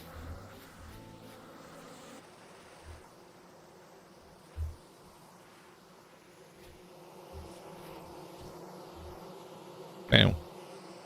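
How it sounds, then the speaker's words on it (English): Soft, steady buzzing of a cartoonish video game bee hums faintly in the background, broken by a few short low thumps and one louder burst near the end. "That's an adorable bee sound, isn't it?"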